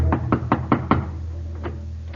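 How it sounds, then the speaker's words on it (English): Knocking on the front door of a German home in an old-time radio drama: five sharp, evenly spaced knocks close up, then a brief pause and a single fainter knock. "He knocks on the front door."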